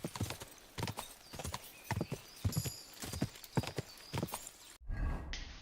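Horse hooves clip-clop in steady rhythm through a medieval game world, a series of close, moderately loud hoofbeats running for several seconds before cutting off into a brief burst of other noise.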